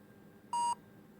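A single short, clean electronic beep from a point-of-sale barcode scanner, loud against a faint background hum, lasting about a quarter second with no talking.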